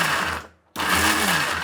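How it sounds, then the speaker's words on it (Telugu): A kitchen mixie blender grinds chopped onions in a loud, steady whir that cuts out briefly for a moment of near silence, then restarts at full strength. "ఇప్పుడు చూడండి, దీన్ని మిక్సీ పడదాము."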